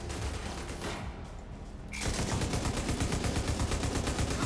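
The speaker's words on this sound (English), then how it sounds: "I think it's a turret he's got over there." An enemy turret in the video game The Division 2 fires rapid continuous bursts, a dense rattling stream of shots broken by a short lull before resuming louder.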